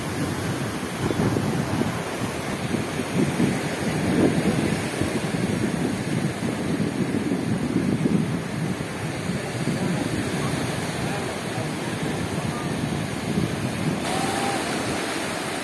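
Surf washing onto a beach, a steady broadband roar of waves with wind rumble running throughout, fairly close and continuous with no clear breaks.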